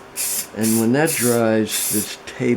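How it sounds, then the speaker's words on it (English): Bursts of spray lacquer hiss from a can onto a soapstone bowl's faceplate, several short sprays alternating with a person talking over and between them. "But what I found does work is a coat of spray lacquer."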